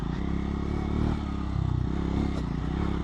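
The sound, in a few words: 400cc motorcycle riding on a road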